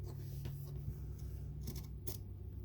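Scissors snip notches into teddy bear fabric, producing several short, crisp cuts close up, spaced irregularly over a low steady hum, with no talking.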